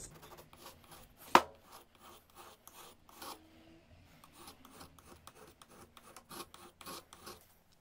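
A file works a burr off the blade of a pruning shears, making a series of short, close rasping strokes in uneven rhythm with a sharp metallic clack near the start.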